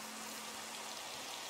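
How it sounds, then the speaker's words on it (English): Rain falling in a Minecraft modpack video game, a faint, uniform hiss with a soft steady hum beneath, continuous and unbroken, with no voices. "It's been raining for like quite some time"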